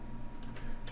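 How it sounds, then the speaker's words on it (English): A few sharp, quick computer mouse clicks in an online editor, spaced irregularly over a low steady hum, close and fairly quiet. "Online editor, clicking away."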